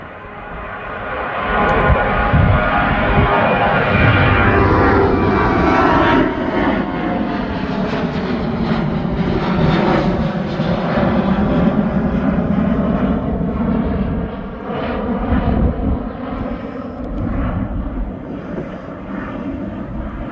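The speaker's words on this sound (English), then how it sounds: "There goes the Antalya flight." An airliner's jet engines roar as the Antalya flight departs East Midlands Airport, a loud, sustained rushing drone with shifting tones as the aircraft climbs away, heard alone outdoors with some wind.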